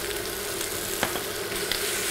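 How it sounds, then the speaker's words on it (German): Bell pepper sautés lightly in a pan, giving a steady close sizzle with a couple of small clicks and no talk. "Und nicht zu stark anbraten, gerade so, dass es ein bisschen anrüstet."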